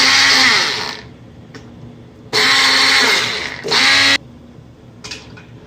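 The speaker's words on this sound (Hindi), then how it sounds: "ये मेरे पास मशीन है, मैं इसी से मैश करूँगा" Electric hand blender whirring loudly through boiled turnips in three bursts, a long opening run, then two shorter close-up pulses with brief quiet gaps between.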